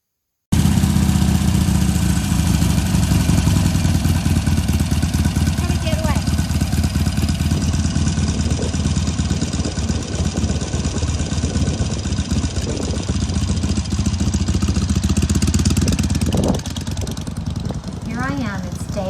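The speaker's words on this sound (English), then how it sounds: "Day 1, my first time on my 2008 Harley Sportster Low" A 2008 Harley-Davidson Sportster Low idles steadily close by, a loud, continuous low rumble with a throbbing beat that runs for the whole stretch with no speech over it.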